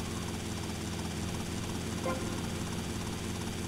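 A Sparrow helicopter in GTA Vice City flies with a continuous, dense rotor-and-engine roar, steady and even throughout, with a brief faint bump midway.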